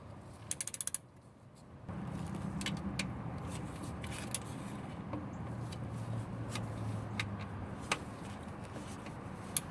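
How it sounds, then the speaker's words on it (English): A torque wrench set to 120 inch-pounds tightens transmission pan bolts on a Saturn L200, with a few sharp clicks near the start followed by scattered ratcheting creaks and taps over a steady background hum. "You just tighten it until it clicks. Until the wrench clicks."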